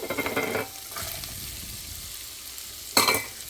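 Lentils or vegetables browning in a pot for lentil soup, with bursts of sizzling frying and stirring at the start and again near the end, and a quieter simmering crackle in between.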